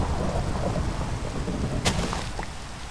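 Thunder and rain in the Minecraft modpack SevTech Ages: steady loud rainfall throughout, with a sharp crack of thunder near the end followed by a brief rumble, no voices.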